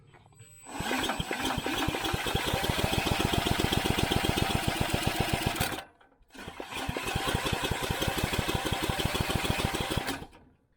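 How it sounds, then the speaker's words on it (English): An old John Deere 56 mower engine cranks and fires in two long, loud runs of rapid rhythmic chugging, separated by a brief pause. "if we can get spark, we can get this motor started"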